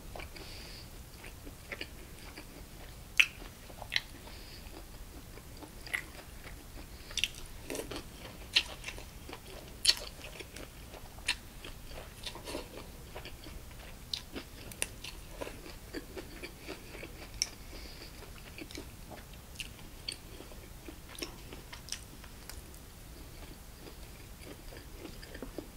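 Quiet, close-up chewing of bossam (boiled pork wrap) with kimchi at night, with soft irregular wet bites and mouth clicks repeating steadily, no talking.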